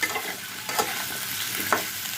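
Pumpkin pieces frying in oil in a pan, unsalted, give a steady close sizzle throughout, broken by a couple of brief sharp scrapes or clinks of stirring.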